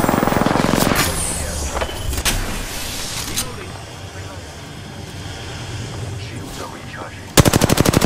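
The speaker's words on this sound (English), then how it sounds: "Opening fire on the enemy." Machine gun fire in Apex Legends, loud rapid bursts at the start and a sharp closing volley, with game sounds and a character voice speaking in between.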